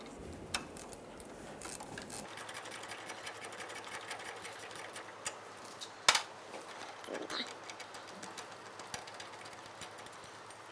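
A hand tool works the 13 mm mounting nut on the parking brake cable of a 1999-2006 Chevrolet Silverado 1500, giving a rapid, close ratcheting tick with one sharp metallic knock midway.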